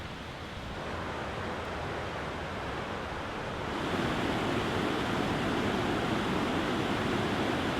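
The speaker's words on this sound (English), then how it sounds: "It's like a rapid waterway coming around the corner here, and there's another waterfall down here." Steady roar of rushing water, like a waterfall feeding a fast stream, broadband and constant, growing slightly louder partway through.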